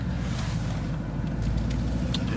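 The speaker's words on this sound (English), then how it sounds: "We've got a car coming this way." A car on a narrow country road approaches at a middling distance, its broadband rumble and tire hiss steady under wind buffeting on the microphone, with no talk.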